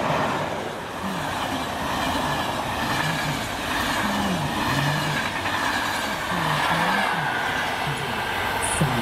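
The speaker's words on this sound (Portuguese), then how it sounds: "o comboio regional, sempre regional, procedente de Aveiro" Regional train from Aveiro passing through a small station halt at Vilela Fornos, Portugal, a loud steady rumble of wheels and carriages lasting throughout with faint squeals, close by and alone.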